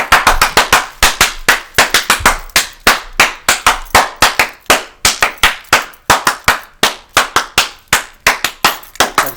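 Hands clap sharply in a fast, steady rhythm, loud and close, dozens of claps with no voices.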